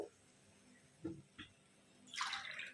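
Water pours into a pan of prawn curry in a short burst near the end, after a couple of faint clinks; quiet kitchen background otherwise.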